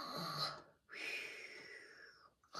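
A human voice imitates a tortoise snoring with two long, raspy breaths, an inhale then a drawn-out wheezy exhale, quiet and close.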